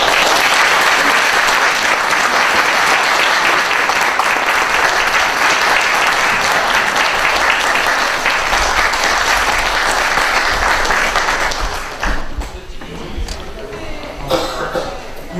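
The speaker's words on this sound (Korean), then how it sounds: "여러분들 힘찬 박수로 시작하도록 하겠습니다" Loud, sustained applause from an audience opening a book concert in Jeju, a dense crowd clapping for about twelve seconds before fading into scattered claps and murmurs.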